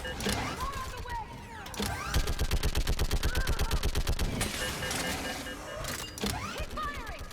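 Gunfire in the Mass Effect 3 sci-fi shooter: a rapid automatic burst of evenly spaced shots in the middle, with scattered single shots and mechanical whirs around it, while voices shout over the action.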